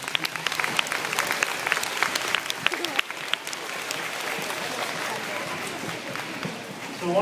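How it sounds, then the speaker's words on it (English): An audience at a health and wellness speech gives a round of applause, sharp claps up front settling into a dense, even wash of clapping and crowd noise that holds steady for several seconds. "let's give these guys a round of applause"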